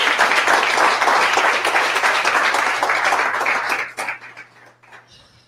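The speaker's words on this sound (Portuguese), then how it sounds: "Você pode dar mais um aplauso a ele" A church congregation applauds for about four seconds, steady dense clapping that thins and fades out at the end, with no talking over it.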